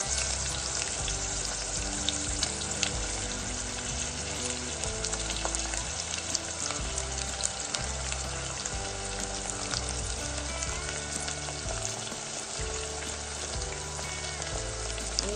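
Carrots sizzle in hot oil for a vegetable pulao, a dense, steady crackling hiss with occasional stirring, close and continuous throughout, with no speech.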